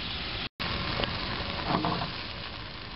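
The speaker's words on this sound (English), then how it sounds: "add about 2 heaping handfuls of hijiki and the carrot so they can cook out" Hijiki seaweed and carrot sizzling and frying in a pan, a steady close crackle with a few soft stirring scrapes and one brief dropout, no talk.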